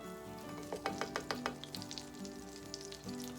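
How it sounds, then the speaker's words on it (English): Butter melts in a pan on medium heat with a quiet, close sizzle and a quick run of light clicking taps early on, then a soft steady crackle. "Now I have the pan on about medium right now, so I can kind of melt the butter a little bit faster"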